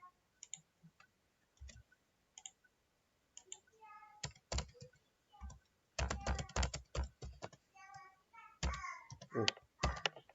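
Clicky typing on a computer keyboard while working in Google Sheets, with sparse isolated keystrokes early on, then dense rapid bursts of keys in the second half, close and clear with no talking.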